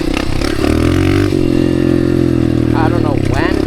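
A dirt bike engine runs in the desert with a steady, loud motor drone that holds throughout, as a voice talks over it near the end.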